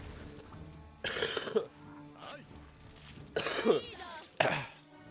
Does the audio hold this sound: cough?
yes